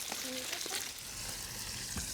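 Onions sizzling in a hot pan while a mirepoix is sautéed for lobster thermidor, a steady close frying hiss with a few brief clinks and stirs near the start.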